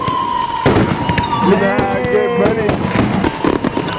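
Fireworks go off in a backyard, a fast run of sharp pops and crackles with whistling shells, loud and close, while people talk and shout over them.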